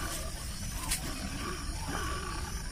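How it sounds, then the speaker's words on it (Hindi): A bear growls at night in a forest, a low continuous rumbling roar heard at moderate distance against steady background noise. "फिर भालू की बहुत डरावनी आवाज सुनाई दे रही है।"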